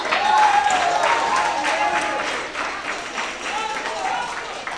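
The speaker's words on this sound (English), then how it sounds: "Can you guys just give yourselves a round of applause for having me?" Students clap and cheer at a high school World Music Day concert. A full round of applause starts loud and slowly tapers, with voices and whoops scattered through it.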